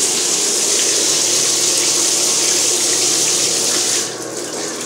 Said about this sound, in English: my water won't turn off, so sometimes it'll drip all night long.